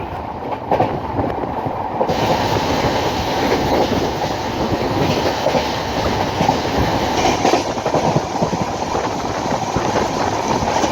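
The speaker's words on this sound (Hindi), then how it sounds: "7:57 पर ट्रेन प्लेटफॉर्म पर एंटर हो गई थी" Passenger train rolling into the platform at Viramgam Junction in Gujarat, a steady loud rumble of wagons and wheels with rhythmic clatter over rail joints, continuous and close throughout.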